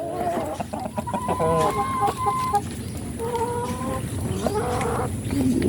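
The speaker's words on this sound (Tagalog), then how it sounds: "Itong aming Rhode Island chicken." Rhode Island Red chickens cluck repeatedly nearby in a farm setting, giving overlapping bursts of clucks and short calls, with faint background noise.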